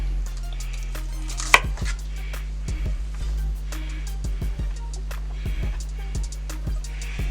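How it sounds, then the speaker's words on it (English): A knife slices green onion on a cutting board in crisp, irregular taps, with one louder knock early on, over a low steady hum. "we're just going to slice a little bit of the green onion here, just to go inside of the fish."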